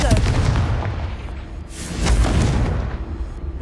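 Explosive Confringo spell blasts in Hogwarts Legacy, a heavy booming burst up front and a second deep explosion around the middle, loud with rumbling low-end tails and no talk.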